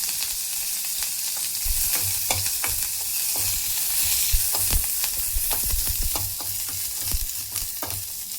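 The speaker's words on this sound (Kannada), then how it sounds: "ಒಣಮೆಣಸು ಹಾಕ್ತಾ ಇದ್ದೇನೆ" Dry red chillies frying in hot oil, a continuous loud sizzle with scattered crackles and pops and occasional stirring knocks throughout.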